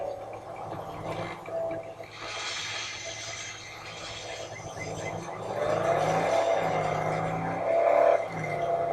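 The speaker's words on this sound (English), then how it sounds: "So go in your car and just go hunt around for them." A car driven in the video game Dead Island, its engine droning steadily with rising revs and a higher whine toward the end, mixed with faint game ambience and no voices.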